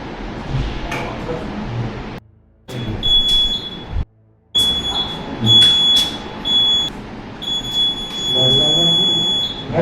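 A smoke detector at a new construction site sounds a shrill, high electronic tone in repeated bursts, broken by short gaps, over steady background noise.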